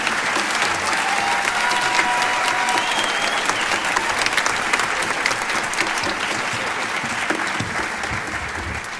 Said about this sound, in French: Donc vous pouvez les applaudir très fort, l'équipe des orchestres à l'école.